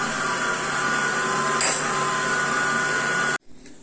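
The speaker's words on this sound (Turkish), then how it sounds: "Şimdi makinede bir tur karıştırdım." A kitchen mixer whirs at a steady high pitch while blending a cocoa şekerpare cake dough of flour, semolina and baking powder, then cuts off abruptly near the end, followed by a faint rattle.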